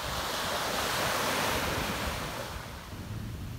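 Ocean waves washing on the shore, a loud broad rushing surf that swells then slowly eases, mixed with wind buffeting the microphone, with no voices.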